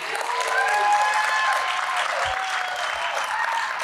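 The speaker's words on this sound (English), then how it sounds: "Clap for them, please." Audience applause for students at the opening of a college education center, a steady wash of many hands clapping at moderate volume throughout.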